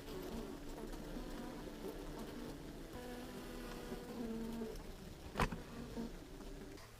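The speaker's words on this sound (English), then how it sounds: "You can kind of see the bees hanging under there." A swarm of honeybees nesting inside a house wall gives off a low, continuous buzzing drone, faint and steady, broken by a single sharp knock.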